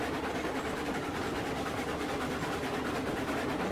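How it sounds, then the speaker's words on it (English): A heavy freight train with 24 cars hauling toward a coal mine in Railroads Online labours up a 4% grade, a steady low rumbling drone with faint rhythmic clatter throughout. "You hear the train kind of bogging down."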